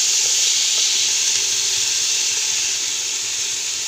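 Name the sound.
vegetables with mint and coriander sautéing in a pan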